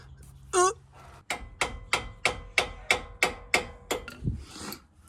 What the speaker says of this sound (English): Little hammer-on wrench method there.